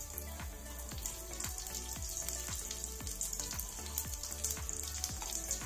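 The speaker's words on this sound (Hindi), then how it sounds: "तो ऑयल अच्छे से गर्म हो गया है, अब हम इसमें डालेंगे राई।" Mustard seeds and curry leaves sizzling in hot oil for a South Indian masala dosa filling, with a steady bright hiss dotted with rapid popping and crackling spatters up close.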